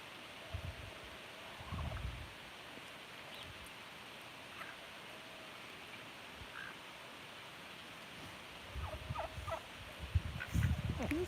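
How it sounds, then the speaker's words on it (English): Turkeys on a farm in rural South Dakota gobble in scattered short bursts over a quiet outdoor background, some faint and distant, with a louder cluster near the end. "And the turkeys are going there too."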